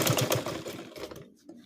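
A sewing machine stitches down an overlap waistband at the belt loop area, a fast rapid rattle of needle strokes for about a second that then stops, close up with no talking.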